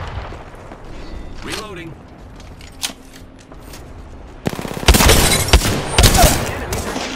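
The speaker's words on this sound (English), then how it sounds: "Enemies are shooting at me" Bursts of enemy gunfire in the shooter game Apex Legends, rapid automatic volleys crackling loudly and densely in the second half after quieter scattered shots, with a voice speaking briefly over it.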